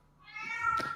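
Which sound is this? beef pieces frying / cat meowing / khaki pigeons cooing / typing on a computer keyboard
cat meowing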